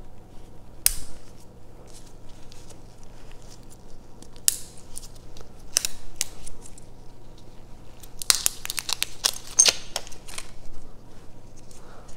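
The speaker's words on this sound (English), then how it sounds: "So you can just kind of cut it with the screwdriver. Yeah. And now once you cut it, you can just peel it off." Screwdriver slitting and peeling the plastic wrapper off a battery, sparse crisp snips and crackles over a quiet background, clustering toward the end.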